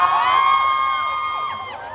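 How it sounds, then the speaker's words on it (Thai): Audience at a fan event on stage cheering and shouting in a sustained, bright, high-pitched wave that slowly fades over two seconds. "ขอเสียงปรบมือหน่อยได้ไหมคะ"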